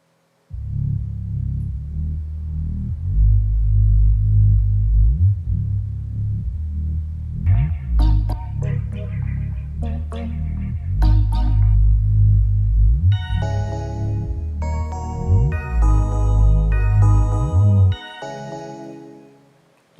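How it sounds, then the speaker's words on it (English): A sidechained bass sample in an FL Studio Afrobeats beat pulses in deep, pumping swells, with brighter melodic synth notes joining partway through and fading out at the end. "So the sidechain bass sounds like this."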